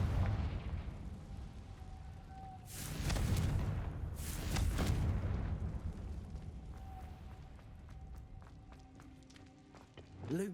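A Confringo fire spell explodes in Hogwarts Legacy with two heavy rumbling blasts close together, then a lower, lingering roar that fades, ending in a short sharp burst.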